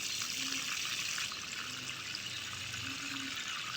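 Water is poured from a vessel into the soil of a potted tamarind plant, a steady, hissing splash and trickle that runs continuously and fairly close throughout.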